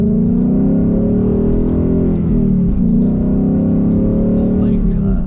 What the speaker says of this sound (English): Just the X-Pipe by itself, taking out that huge resonator, made a huge difference on how the car sounds.